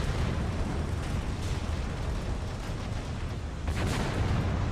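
Battle in Graviteam Tactics set in Africa, 1986, with steady gunfire and booming explosions forming a continuous, thick roar of distant and near blasts.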